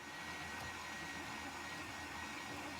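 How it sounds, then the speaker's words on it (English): A kitchen blender mixes vegan double chocolate chip cookie ingredients, giving a continuous, even motor whir at a fairly faint level, steady throughout and with no voices. "I'm just going to stick it on the blender and let it run for a minute or two to mix up the ingredients"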